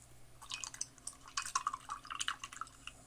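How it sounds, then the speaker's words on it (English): A paint brush is swished and rinsed in a container of water, giving soft close sloshing and dripping with small irregular splashes, quiet and without talking. "Wash out your brush."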